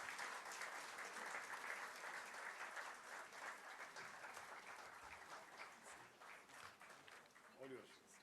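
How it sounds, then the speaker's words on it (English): An audience applauds steadily after a memorial lecture. The clapping is dense and sustained and stays fairly even throughout, with a voice briefly audible over it near the end. "I think a louder round of applause"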